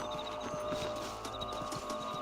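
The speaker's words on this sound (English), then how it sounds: "mount your horse" Horse hooves clip-clop at a steady walking rhythm in the Red Dead Redemption video game, clear and close over a constant music and ambient game backdrop, with no talking.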